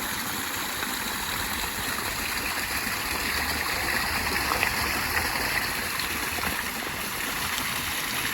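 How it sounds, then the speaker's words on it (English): Water of Rattlesnake Brook, a natural stream in Seton Falls Park, runs steadily over man-made falls, a continuous broad rushing wash that stays close and unbroken from start to finish. "It's a natural stream called Rattlesnake Brook."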